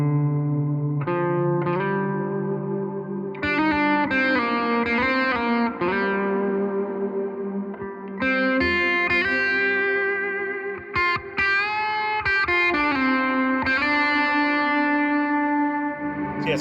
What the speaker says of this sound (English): Let me show you what this cloud reverb does.